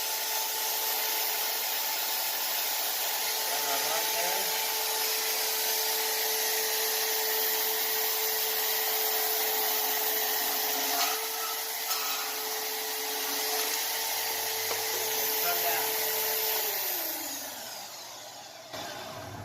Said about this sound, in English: when we pull the trigger, that will keep the bandsaw running.